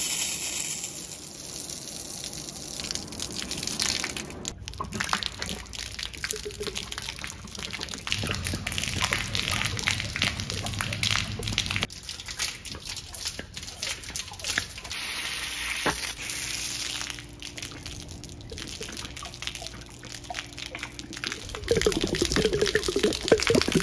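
Water drains from an apartment building's fire sprinkler system with a continuous rushing, gushing hiss, loud and steady throughout with shifting intensity and no talk.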